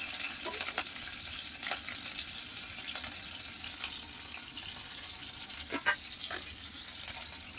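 Ginger, garlic and green chilli frying in a pan for a dry prawn curry, a soft continuous sizzle with occasional stirring clinks and scrapes, fairly quiet and with no talking.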